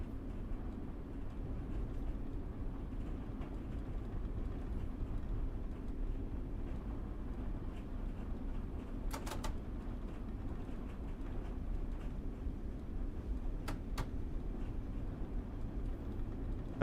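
Continuous engine drone of a train in a train simulator game, a low steady rumble at even loudness with a couple of brief sharp clicks partway through, no talking.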